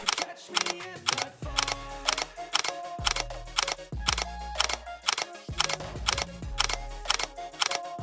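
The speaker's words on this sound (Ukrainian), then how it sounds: "зараз роблю фото сидінь і відправляю замовнику" A camera shutter firing repeatedly while car seats are photographed, a steady series of crisp mechanical clicks about twice per second, close and clear over a low background rumble.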